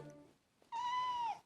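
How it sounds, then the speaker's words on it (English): A cat gives a single clear, drawn-out meow indoors, close to the microphone and fairly loud, after a brief quieter stretch with no talking. "Cat."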